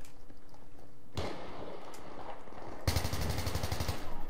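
Rapid bursts of gunfire from a newly unlocked weapon in Battlefield 3, loud and close, starting with a sharp burst, then a longer steady automatic stream toward the end.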